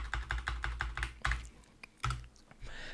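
Close, rapid clicks of keys on a computer keyboard during a podcast, coming in quick bursts with brief pauses between and no talk.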